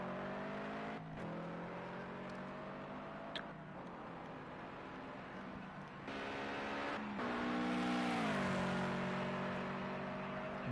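A race car engine at Spa in a racing video game holds a steady whine that climbs and shifts pitch through gear changes, with a couple of brief dips, loud and continuous with no talk.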